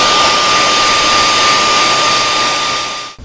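A heat gun or hair dryer blasting hot air to set paint on a fishing lure, a loud steady whooshing roar with a faint whine, close and continuous until it cuts off at the end.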